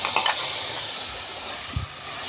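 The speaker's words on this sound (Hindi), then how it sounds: "अच्छे तरीके से भून लेंगे 5 मिनट तक ताकि टमाटर गल जाए" Tomatoes and spices sauté in a pan with a steady, moderately loud sizzle and hiss, broken by a couple of brief stirring scrapes and a soft low thump.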